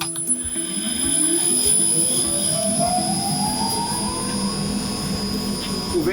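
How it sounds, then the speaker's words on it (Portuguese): A centrifugal fan driven by a 2 hp motor on a mushroom compost pasteurizer roars steadily and loudly, with a rising whine sweeping upward as it spins, plus constant high tonal hums. "nós temos esse ventilador centrífugo com motor de 2 cavalos"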